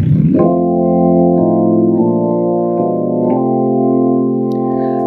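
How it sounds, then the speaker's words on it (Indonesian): Yamaha P-525 digital piano playing its jazz organ voice: a run of steady, sustained organ chords that shift every second or so and ring close, full and bright, with no talking. "Ini adalah suara jazz organ."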